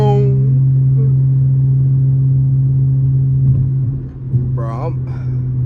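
Dodge Challenger SXT Plus engine in sport mode, a steady loud low drone of the running motor from inside the cabin, with a brief voice near the end over the rumble.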